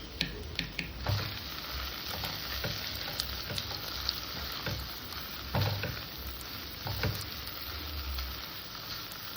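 Prawns sauté in a pan for doi chingri, a steady close sizzle of frying with occasional stirring clinks and pops, no talk.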